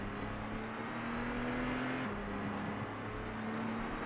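A Nissan Micra driven in the video game The Getaway, its engine a steady, moderately loud drone with a shifting pitch, running continuously with no voices.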